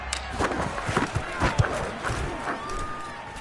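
A stadium crowd in a football video game roars after a touchdown, a steady wash of cheering and shouting with a few louder swells, heard without any clear talk over it.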